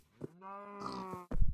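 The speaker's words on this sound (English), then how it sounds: "Oh, I hear cows." A Minecraft cow lets out one long, close, droning moo, preceded by a brief grunt and followed by a short burst of noise.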